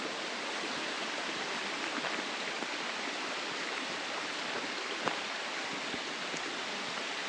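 A woodland stream beside a hiking trail in the Poconos, near Rattlesnake Falls, flowing with a steady, close hiss of moving water and no voices over it.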